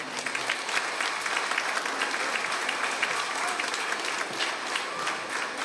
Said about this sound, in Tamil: கைத்தட்டல் பத்தல.